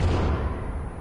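A sticky bomb explodes in The Forest, a loud, deep, rumbling blast that fills the brief moment and tails off slightly.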